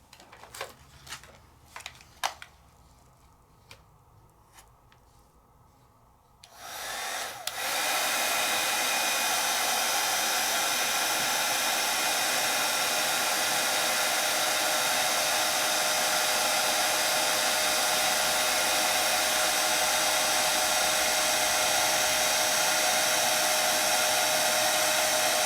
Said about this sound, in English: And let's heat set.